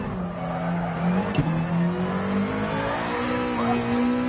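A racing-game car engine drones steadily in second gear as the rear end slides out, its pitch rising and falling through the slide, with a faint tire scrub on the Alsace stage.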